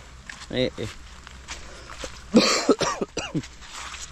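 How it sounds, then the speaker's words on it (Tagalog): A man with a cough gives a few short, rough coughs in close succession, mixed with throat sounds and speech outdoors on a farm, over a faint steady background hum. "Inuubo po tayo."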